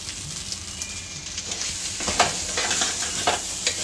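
Cashews frying in a pan for fried rice, a steady soft sizzle with occasional stirring scrapes and clinks, moderately close and with no talking.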